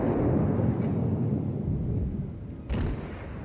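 Deep booming rumble of battleship main guns firing in World of Warships, a heavy low roll that decays, then a second sharp blast near the end.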